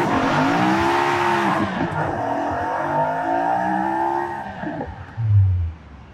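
A Jaguar XJ220S TWR in Forza Horizon 5 revs through rising engine pitches and gear changes, loud and close, then ends with a short low rumble.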